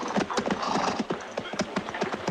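Horse hooves clip-clop in a quick, even rhythm, close and clear, with no one speaking.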